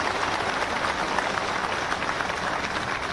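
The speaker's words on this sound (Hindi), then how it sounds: "देश अध्यक्ष माननीय विष्णुदत्त शर्मा जी के भी जोरदार ताली से स्वागत किया जाओ।" Audience applause welcoming a speaker at a political gathering in Bhopal, a steady dense clapping from a large crowd, loud and continuous throughout.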